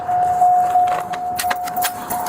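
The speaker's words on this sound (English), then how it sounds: "Keys in the ignition, see?" Car keys jangle in the ignition with a few bright metallic clinks and rattles, close up over a steady electronic chime tone inside the vehicle.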